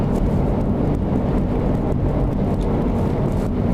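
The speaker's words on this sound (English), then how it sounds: "In case you guys are hearing wind noise, because I know I am right now, it is exceptionally windy at the moment." Strong wind buffets a 2022 Honda Civic Hatchback Turbo with a 6-speed manual as it drives a winding road, a steady, loud low rumble of gusty roar with no pauses.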